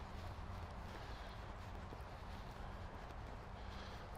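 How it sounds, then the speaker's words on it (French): A horse trots steadily during a riding lesson, its hoofbeats faint and continuous beneath ambient outdoor noise, with no speech. "Tu vois, il n'a plus le même trot déjà que tu respires."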